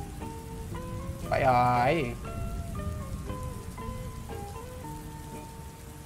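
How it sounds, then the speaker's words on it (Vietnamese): Rain falls in the horror video game Paranormal Story as a steady, soft patter on surfaces. It plays under quiet game music, and a short spoken remark comes over it. "Ồ, là mưa. Ồ, mưa cục bộ à."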